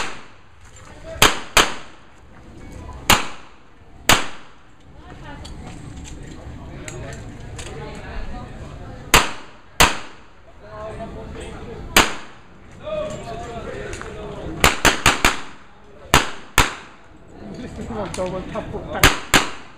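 Pistol gunshots at an outdoor invitational shooting event, about fifteen sharp cracks in irregular bursts across the stretch, some distant and some nearer, with people talking in the background between shots.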